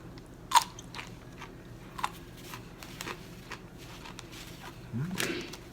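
Freshly picked dragon tongue beans are bitten and chewed close up, a few soft crunchy bites spaced over several seconds with quiet mouth noises in between.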